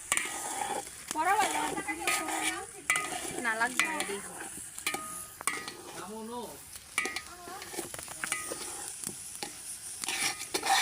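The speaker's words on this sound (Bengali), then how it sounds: "ভালোভাবে নাড়াচাড়া দেওয়া হইতাছে" Food frying in a pot at a picnic is stirred steadily, with a continuous sizzle and repeated scraping of the utensil while people talk nearby throughout.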